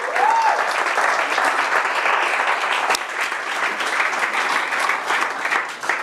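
Sustained applause from a meetup audience at a Liverpool lightning-talk event as the first speaker comes up, dense and steady throughout with a brief faint whistle-like tone near the start.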